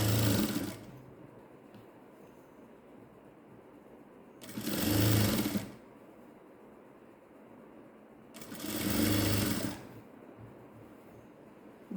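A sewing machine stitches around the waistband of ladies' pants, where the drawstring channel goes, in three short, evenly spaced bursts separated by quiet gaps.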